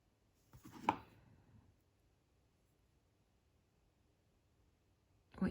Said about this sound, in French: vous prenez la pince coupante. Parce que moi, ma tige, elle est trop longue, hein, donc je vais la couper à peu près ici